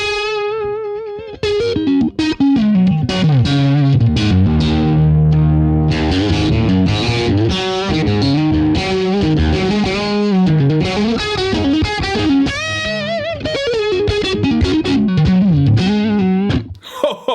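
Electric guitar run through an optical compressor, its notes given extra sustain: a steady stream of picked melodic lines and bends, loud and close, with smooth, even levels and no talk.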